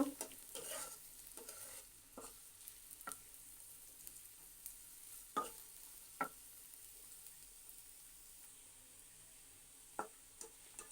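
Chopped onions fry in a pan for a fish curry with potato and eggplant. There is a steady soft sizzle, with several sharp spatula scrapes and stirs recurring every second or two, close and fairly quiet, and no talk.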